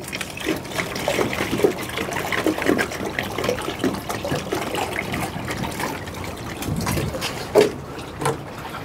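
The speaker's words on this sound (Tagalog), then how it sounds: "nalagyan ko na ng tubig isang painuman" Water poured into a dog's drinking bowl, a soft, uneven trickle and splash with scattered louder gulps of liquid, fairly quiet and close with no talk.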